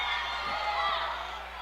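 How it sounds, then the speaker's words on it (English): A crowd at a girls high school wrestling match cheers and shouts in a brief, moderately distant swell of noise over a steady hall hum. "Crowd goes wild from the slam of the feet"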